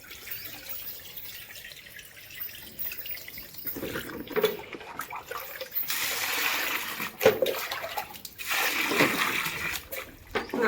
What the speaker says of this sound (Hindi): एक बार और धो लेंगे इसको, फिर पानी डाल कर निकाल लेंगे